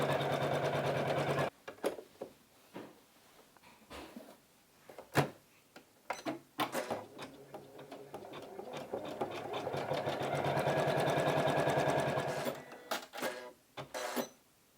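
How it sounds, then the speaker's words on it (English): An embroidery machine stitches a placement line for a flower, with bursts of rapid mechanical stitching, short pauses and clicks, then a longer continuous run before it stops. "It's going to start stitching out the next placement line for the next flower that is the same color."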